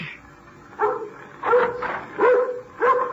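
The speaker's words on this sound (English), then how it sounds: "Ruthie, now you stop your barking." A small dog barks four times in sharp, evenly spaced bursts, close by, with quiet pauses between each yap.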